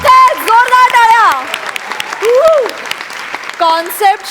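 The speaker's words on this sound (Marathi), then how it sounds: "जोरदार टाळ्या" Loud clapping from a comedy show audience bursts out around voices and sliding tonal sounds, rising and falling in short surges.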